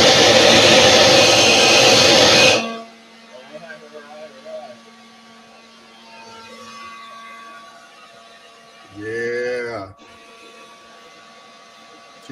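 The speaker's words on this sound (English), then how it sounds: "I got a little mini blower in here." A small mini blower roars loudly and steadily for the first couple of seconds, then cuts off abruptly, leaving faint background noise and a brief tonal whine later.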